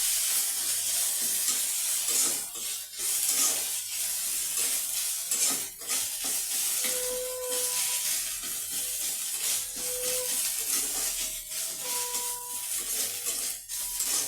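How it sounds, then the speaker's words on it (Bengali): Steady sizzling of food frying in a pan, a constant hiss with occasional scraping and stirring knocks throughout. "দিয়ে ভালো করে নেড়ে নেব। দিয়ে ভালো করে ভেজে নেব।"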